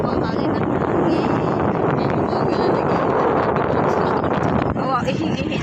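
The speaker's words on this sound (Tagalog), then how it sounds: "Mahangin ang hangin." Wind blows steadily by the water in a dense, constant roar, buffeting the microphone without a break and drowning out any other sound.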